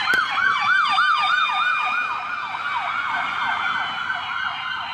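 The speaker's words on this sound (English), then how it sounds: "our first catch was this ambulance" An ambulance siren wails in a rapid, regular up-and-down yelp, loud and near at first and then easing slightly as the vehicle passes, with no voices.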